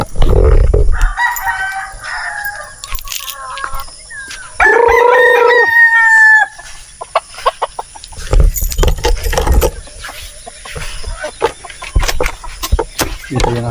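Chickens and a rooster on a farm, a loud nearby cock-a-doodle-doo crow in the middle amid scattered clucks and calls, with clattering, jangling handling noises and other bursts of farm activity around it.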